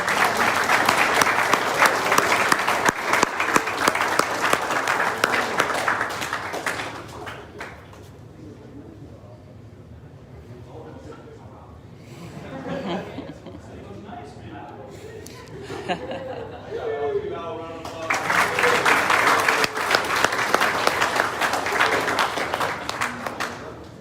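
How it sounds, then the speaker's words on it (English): Audience at a boys basketball banquet breaks into loud applause with chatter and a few chuckles, fading into a quieter stretch of murmuring before a second burst of clapping swells back up. "Let's give a big round of applause for Al."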